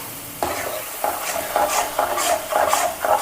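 Milk is stirred into roasted flour in a pan for farali sukhadi, giving rhythmic wet sizzling swishes about every half second, close and distinct, with no speech.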